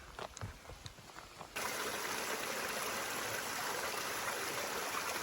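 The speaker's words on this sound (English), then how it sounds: "More of the stream, some smaller waterfalls coming down the side" A mountain stream on a hiking trail up Kinsman Mountain rushes with steady broadband water noise, starting after a few footsteps and continuing close and constant.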